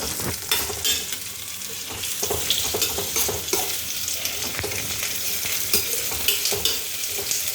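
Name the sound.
frying onions in a pan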